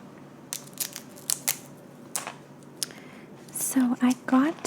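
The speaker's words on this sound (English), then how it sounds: "So the fastest, easiest way to cut them up is using dental floss." Dental floss slices through rolled cinnamon roll dough, giving a few sharp, close snaps and soft squishy crunches amid quiet pauses, with a soft voice murmuring briefly near the end.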